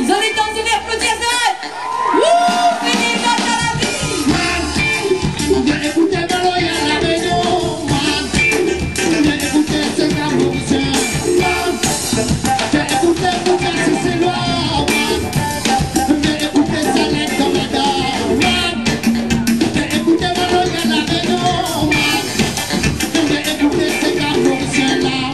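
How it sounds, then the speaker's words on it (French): A large crowd cheering and shouting continuously, loud and dense, with whoops rising over a constant roar that starts after a brief moment. "applaudis à Zon"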